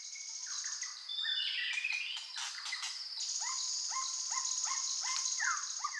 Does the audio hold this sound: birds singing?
yes